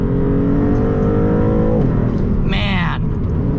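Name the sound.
Maserati MC20 accelerating hard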